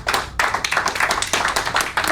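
An audience at a speech club meeting claps for a speaker after a talk on water conservation, loud, close, dense applause in a few rhythmic surges.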